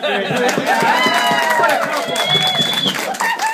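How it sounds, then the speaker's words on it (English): A crowd at a 60th birthday roast breaks into loud sustained applause and cheering, dense clapping filling the whole stretch with voices mixed in. "Let's give a round of applause for Bill Burney."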